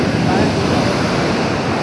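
Strong sea waves surging and breaking at Puerto Galera beach, a loud, continuous wash of surf with wind buffeting the microphone, steady and close throughout.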